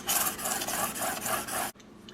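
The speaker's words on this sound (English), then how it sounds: "sharpen the other side till I get a burr" A Grim Reaper Hades Pro knife blade is drawn across an abrasive sharpening surface in repeated rasping strokes, loud and close, ending abruptly into quiet.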